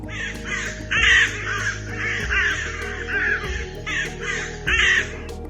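Repeated loud caws from a crow, four or five harsh calls in an uneven rhythm, heard up close over a steady low background hum, with no talking.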